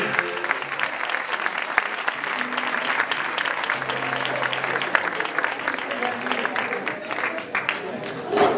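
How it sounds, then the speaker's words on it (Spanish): An audience at a habaneras concert applauds steadily throughout, dense clapping with a faint murmur of voices mixed in. "Para todos ustedes un fuerte aplauso del grupo Habanera de La Casa de Almería."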